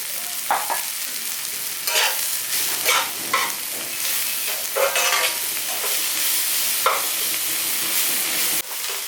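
Chopped onions with salt frying in a kadai, a continuous hiss and sizzle broken by repeated scrapes and clinks of stirring, close and fairly loud with no talking.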